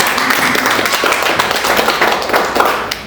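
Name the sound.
congregation clapping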